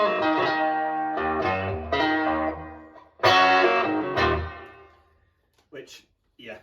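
Line 6 Spider IV amp with its default plate reverb, guitar chords struck in a few bursts that ring out and decay into a reverb tail, ending with faint short sounds near the close.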